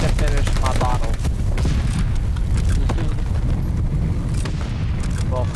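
Dense gunfire in Call of Duty: Vanguard, with rapid bursts and booming shots crowding together loudly while players talk over the fighting.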